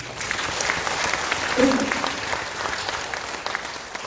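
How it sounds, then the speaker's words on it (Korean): A ceremony audience at a ginseng expo launch event applauds, a dense and sustained clapping that stays steady throughout, with a voice briefly heard over it. "여러분 다시 한 박수 한번 주십시오"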